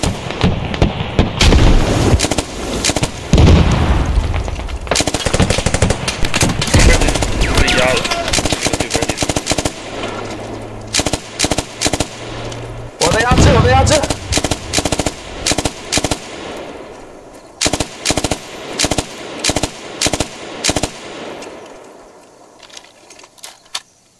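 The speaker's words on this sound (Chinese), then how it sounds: "这对面的 AI 有 重机枪" Heavy machine gun fire rattles in a military simulation video game, long dense bursts and short rapid volleys of loud gunshots coming in repeated clusters, with a voice talking between them.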